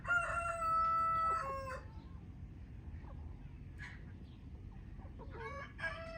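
An Australorp rooster crows loudly nearby, then Blue Australorp hens cluck and squawk quietly, with another crow starting at the end.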